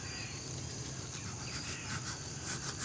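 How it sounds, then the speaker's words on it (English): Bees buzzing around a beehive, a dense steady hum that holds throughout at an even, fairly loud level. "Lots of bees."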